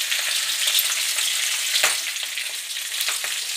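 Chopped green chillies stir-fry in a hot pan with a steady, bright sizzle, punctuated by a few soft scrapes and knocks from stirring, close and continuous throughout.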